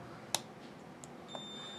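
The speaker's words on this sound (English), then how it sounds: "we should hear it beep" A multimeter beeps for continuity as its probes touch pads on a game controller circuit board, a faint thin tone starting late and lasting a fraction of a second, after a couple of soft clicks from the probes.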